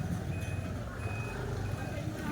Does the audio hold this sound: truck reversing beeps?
yes